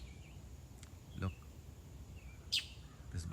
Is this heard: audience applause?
no